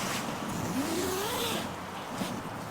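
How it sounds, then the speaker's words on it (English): A zipper runs along the door of a NatureHike Cloud Peak 2 two-person tent as it is unzipped outdoors, one continuous rising zip heard faintly over steady wind or ambient noise. "zip open, so that basically the full door, try to spin come around here, the full side of the tent more or less opens up"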